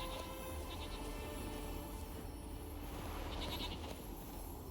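Goats bleating in The Witcher 3 video game, a couple of short bleats rising above a steady dense wash of in-game ambience and background sound, with no talking.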